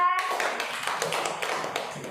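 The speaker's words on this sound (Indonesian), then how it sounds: "Tepuk tangan untuk Akila." Second-grade primary schoolchildren applaud a classmate in their classroom, a quick, lively patter of many small hands clapping close by, steady and fading slightly toward the end.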